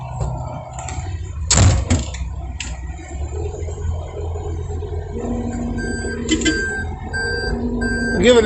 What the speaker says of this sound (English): Everybody hears these backup alarms